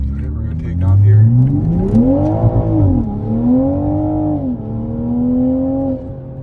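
A Toyota A90 Supra or BMW M2 sports car accelerates hard from a stop, its engine note climbing through the revs in strong, steady pulls with a brief shift, loud and close as if heard from inside.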